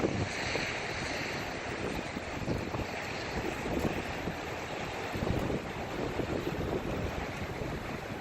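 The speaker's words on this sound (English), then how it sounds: "look at the surf. It's all stirred up and shit this morning" Stirred-up ocean surf rolls and hisses in a broad, continuous wash, with wind buffeting the microphone throughout and no voices over it.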